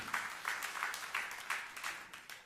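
Congregation clapping during a New Year's Eve church service, a faint, distant patter of applause that comes in rhythmic, roughly regular bursts, as if the clapping is in time.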